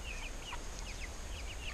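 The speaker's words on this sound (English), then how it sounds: "They're very easy to take care of, these meat birds." Free-ranging broiler meat chickens clucking, several short chirpy clucks repeating in quick irregular succession over a low steady outdoor hum, fairly close and moderately quiet.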